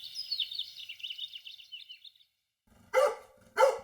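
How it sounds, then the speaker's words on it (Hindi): A dog gives two sharp, loud barks close by, about half a second apart, after a stretch of high, warbling chirps. "सारी एनर्जी आज ही भौंकने में लगा देगा"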